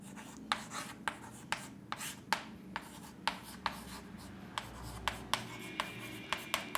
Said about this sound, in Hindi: स्किल डेवलपमेंट का भी पेपर जो होगा उसको हम लिख लेते हैं यहीं पे